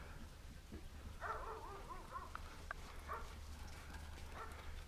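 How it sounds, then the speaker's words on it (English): A neighbour's dog barks and yips in short bursts at a distance, faint against a low steady hum, the calls coming in a few scattered clusters. "Neighbor's fox dog's going off again"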